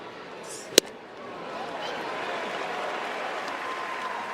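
Broadband crowd applause rises and holds steady as a 55,000-strong stadium crowd stands at a Dodgers–Phillies NLDS playoff game, with a single sharp knock early and no talk over the sustained clapping.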